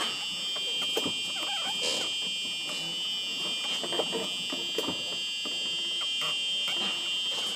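A golf cart's warning beeper sounds as a steady, high-pitched electronic tone running continuously throughout, with faint background noise and a few soft knocks underneath.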